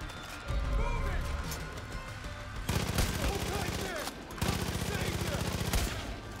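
Bursts of rapid automatic gunfire in the Far Cry 5 video game crackle loudly in two long volleys, separated by a brief pause, over a dense layer of game noise.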